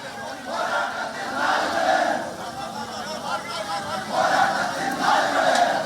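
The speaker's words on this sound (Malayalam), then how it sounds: "കടലിരമ്പം പോലെ ജനങ്ങളുടെ മുദ്രാവാക്യം കേൾക്കുകയാണ്" Large crowd chanting slogans in rolling surges during the funeral procession of VS as his body is carried from his home, Velikkakathu house; a dense roar of many voices rises and falls in waves, loud and continuous.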